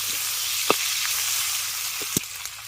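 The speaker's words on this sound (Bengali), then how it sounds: "শুকনো লঙ্কাটাকে তিরিশ থেকে চল্লিশ সেকেন্ড একটু আগে ভেজে নেবেন" Dried red chillies frying in a pan in a fish-head and spinach dish, a steady bright sizzle throughout with a few sharp pops and utensil clicks, close and alone.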